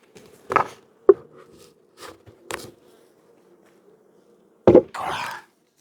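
Honeybees buzz around an opened hive frame during an inspection for queen cells, a steady low hum under a few sharp knocks and scrapes of wood and hive parts, with a louder rustling burst near the end.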